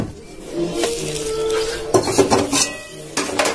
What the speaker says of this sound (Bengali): আমি একটা খুন্তি নিয়ে আগে মাখিয়ে নিচ্ছি